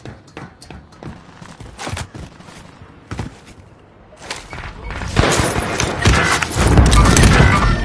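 Gunfire and impacts in a battle-royale video game, with scattered thuds and bursts early, then dense, loud continuous firing and explosions building toward the end, with game voice callouts over it.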